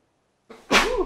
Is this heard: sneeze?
yes